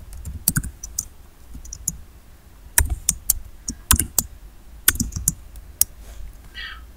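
Keys on a computer keyboard are tapped in short, irregular bursts of sharp clicks while Ruby on Rails code is written, close and clear with pauses between strokes and no talking.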